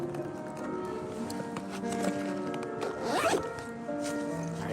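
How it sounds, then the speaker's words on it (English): A bag zipper is pulled in a quick rasping stroke near the middle, with faint clatter and street ambience around it in Hiroshima near the Atomic Bomb Dome. "zip your bag."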